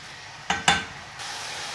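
Ground meat sizzles in a frying pan while it cooks until dry, a steady soft hiss broken by two sharp scraping stirs of a utensil against the pan.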